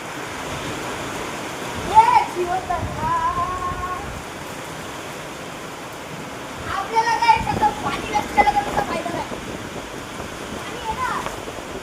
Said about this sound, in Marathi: गाईस बघा थोडा पाऊस. बघा पाऊस बघा.